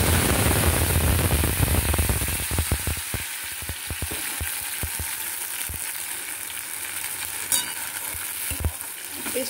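Whole spices fry in oil over low heat while being stirred, giving a loud, continuous sizzle with repeated scraping stir strokes close by and no talking.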